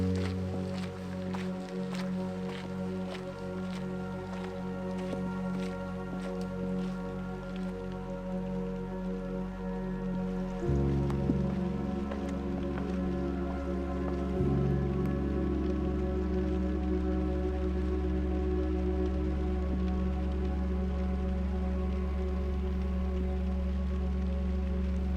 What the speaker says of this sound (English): I've missed the rain so much.